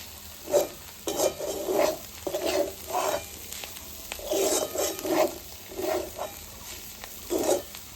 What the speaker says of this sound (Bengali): আমি পেঁয়াজটাও দিয়ে দেব, আলুর সাথে ভেজে নেব।